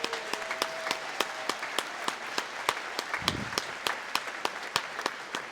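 Audience applause for a board of directors standing at a balloon fiesta awards ceremony, heard as a steady run of sparse, evenly spaced claps at moderate volume, with a brief low murmur partway through.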